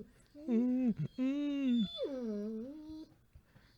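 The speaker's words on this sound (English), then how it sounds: "the official puppy of the Long Con." A puppy whimpers and whines in drawn-out, rising and falling cries, three close high-pitched whines filling a quiet room.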